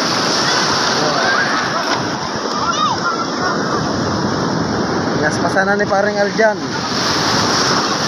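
Strong sea waves crash and surge in a continuous loud wash of water, with splashes rising and falling, while people talk close by over the surf.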